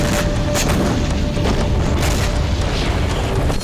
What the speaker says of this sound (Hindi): यूक्रेन ने इन शहरों में नई मिसाइलों और ड्रोन से ताबड़तोड़ विस्फोट किए